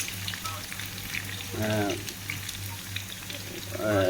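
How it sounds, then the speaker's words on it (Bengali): Half a kilo of onions fries in hot oil for chicken dum biryani, a steady close sizzle with crackling pops. Scraping stirs come twice, a short one midway and a louder one at the end. "আধা কিলো পেঁয়াজ ফ্রাই করে মিলে রাখি"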